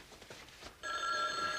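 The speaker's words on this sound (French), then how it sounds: "Ah, c'est le téléphone." An old telephone bell starts ringing partway through, a steady, loud electric ring that cuts in suddenly after a brief stretch of quiet room tone.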